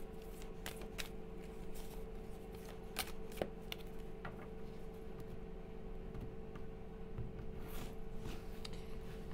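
Oracle cards shuffled for a card reading, a steady papery riffling and sliding that runs throughout with a few sharper flicks, close and fairly quiet over a low background hum.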